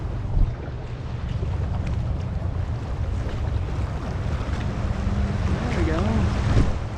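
A Rolling Thunder jet boat runs through white-water rapids on the Snake River, its steady engine drone under loud rushing water and wind buffeting the microphone throughout.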